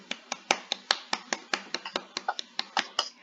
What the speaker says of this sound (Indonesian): kelompok 1 sudah presentasi, kita beri aplaus dulu